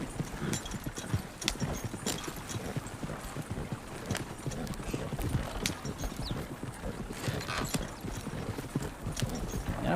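Horse hooves clip-clop steadily on the road as the animal pulls a cart fitted with double-spring suspension, a brisk continuous rhythm of hoofbeats close by with faint rattling.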